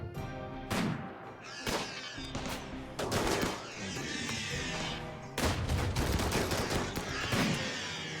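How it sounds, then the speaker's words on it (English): Autocannon fire in the RimWorld video game sounds as repeated bursts of booming shots in irregular volleys, loud and dense, with little or no talking. "Did I just hear the autocannon, but I didn't see it?"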